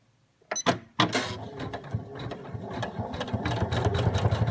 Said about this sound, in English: The final step for this will be to run the satin stitch around the outside.